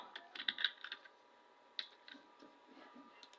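Fingers typing a short code comment on a computer keyboard, a quick burst of close clicky keystrokes, then a lone tap and a few scattered lighter presses, with faint voice nearby.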